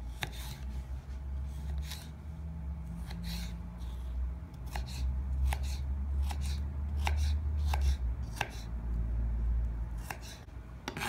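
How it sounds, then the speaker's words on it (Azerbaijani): A knife chops cucumbers for an asparagus salad in a steady run of light, crisp cuts against a board, close and even, over a low background rumble with no talking. "Xiyarları da xırdalayırıq."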